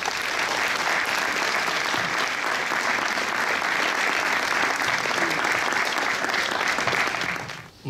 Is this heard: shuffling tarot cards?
no